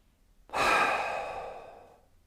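A single deep inhalation in a pranayama breathing exercise begins suddenly, is loud and close, and then slowly fades over about a second and a half. No one speaks.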